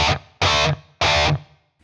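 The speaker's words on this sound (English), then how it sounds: "it gives that little bit of a slap back just so you have almost like in the room kind of effect" Guitar chords through the HK Puretone amp simulator with a subtle slap-back spring reverb, three loud, distorted strums separated by short gaps, each tail ringing briefly into the room-like echo.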